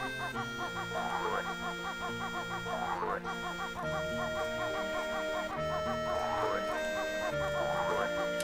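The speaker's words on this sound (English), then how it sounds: "I remember using the chicken to fly over this part before." Repeated clucking of a chicken in the Nintendo 64 game The Legend of Zelda: Ocarina of Time, heard over the game's looping background music, fairly close and steady throughout.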